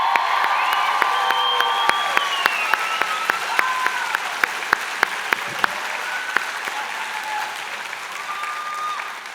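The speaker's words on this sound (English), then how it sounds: "How about one last huge round of applause and cheer for the entire graduating class of 2019?" Sustained applause from a large convocation audience honouring the 2019 graduating class, steady and dense for about nine seconds with scattered cheers and whistles rising above the clapping.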